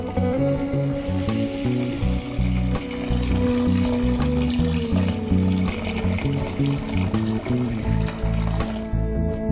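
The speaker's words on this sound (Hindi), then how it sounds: "अब इसके ऊपर हम डालेंगे गर्म पानी।" Hot water pours into a cooking pot holding washed chicken and other soup ingredients, a steady, close gushing and trickling that runs for several seconds before tapering off near the end.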